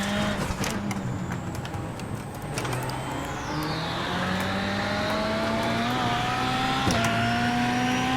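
A rallycross race car in the iRacing sim at Daytona revs and accelerates, its engine note rising through gears with pitch climbs and brief drops at shifts, loud and continuous with no talking.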